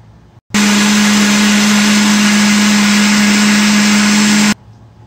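An electric blender grinds peach milkshake made with sugar and half a litre of milk: one loud, steady whining roar for about four seconds, starting and stopping abruptly between brief quiet gaps.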